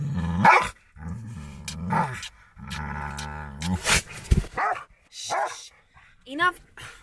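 A herding-breed dog growls in low rumbling bursts and breaks into sharp close barks inside a camping truck, alternating repeatedly, with a person talking softly at times.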